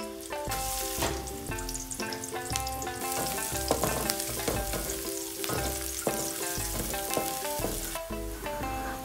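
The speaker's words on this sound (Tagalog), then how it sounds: "Igisa na natin ng bawang," Garlic and onion sauté in oil in a pan, a steady close sizzle and crackle with occasional stirring, heard alone under music.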